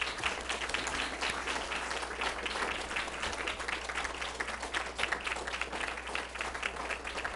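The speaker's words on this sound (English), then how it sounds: "How about a round of applause for the candidates?" Sustained applause from an audience at a League of Women Voters mayoral candidates forum, a dense, steady wash of many hands clapping at once, fairly loud and continuous, with a low hum beneath and little or no speech.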